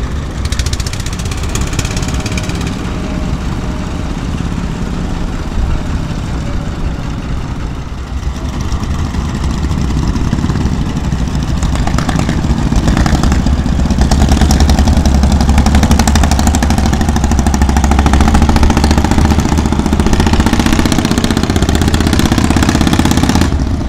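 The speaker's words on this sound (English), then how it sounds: "this is the engine of the boat" A boat engine runs steadily at close range in Yangon, Myanmar, a loud, continuous rumbling drone that grows slightly heavier partway through.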